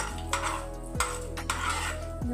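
A spoon stirs a mint rice mixture with peanuts in a metal pan, giving a few distinct scraping clinks spaced about half a second apart over a steady low background hum, close and fairly quiet.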